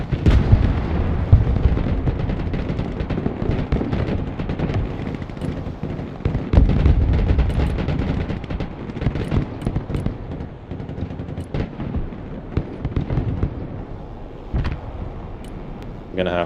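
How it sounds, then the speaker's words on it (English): Artillery in the Broken Arrow war game fires in repeated loud booms amid dense battlefield clatter and gunfire, a constant chaotic din with a voice talking over it. "I'm gonna have to just make sure everything moves every time this artillery fires"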